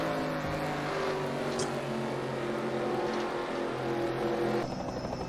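NASCAR race car engines drone in a racing video game at Richmond, a continuous layered whine of several motors holding steady throughout.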